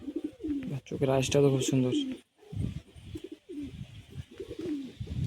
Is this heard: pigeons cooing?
yes